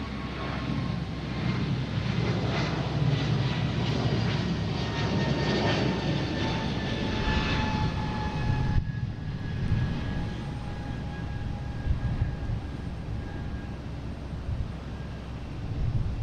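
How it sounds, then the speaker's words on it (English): A Delta Airbus A220 jet roars steadily on takeoff at Boston Logan airport, a loud, sustained engine rumble with a whining tone that shifts partway through as the aircraft climbs away. "Delta heading to Charleston, A220. That's jumping right up."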